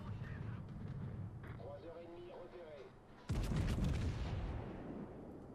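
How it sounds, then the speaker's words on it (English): Heavy naval gunfire from battleships such as the Musashi in World of Warships, a sudden loud booming salvo partway through that rolls on and fades over rumbling engine drone, with a voice talking earlier. "I'm trying to angle my side armor against these incoming Musashi shots"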